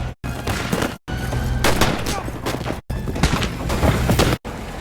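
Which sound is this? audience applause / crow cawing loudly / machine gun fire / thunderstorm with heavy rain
machine gun fire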